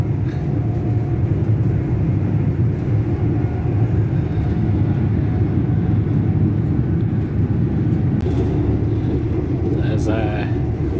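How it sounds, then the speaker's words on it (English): Steady, loud rumble of a moving train heard from on board, a continuous low drone with rattling running throughout, and a voice talking briefly near the end. "I'm on the train."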